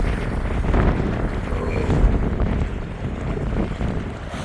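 Wind blows hard across a fishing pier by the sea, a constant loud roar that buffets the microphone with rumbling gusts.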